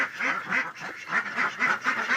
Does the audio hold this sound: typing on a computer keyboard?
no